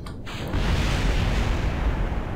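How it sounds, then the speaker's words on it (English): Rocket stages blowing apart during stage separation in the space-flight game Kerbal Space Program: a loud, sustained roaring rumble of explosions that starts abruptly and holds steady for a couple of seconds, with no talk over it. "Oh, we had explosions!"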